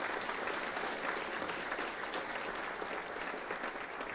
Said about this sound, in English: Yeah, let's give them a big round of applause.